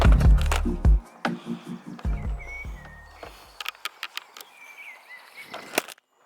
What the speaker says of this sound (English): That was the sound of my camera plummeting into the floor and breaking